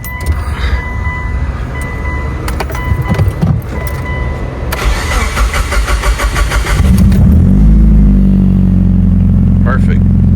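A built Mitsubishi Evo8 with a turbo is started from cold: loud cranking and mechanical clatter give way to the engine catching, then a deep, steady, close-up rumble as it settles into a running idle.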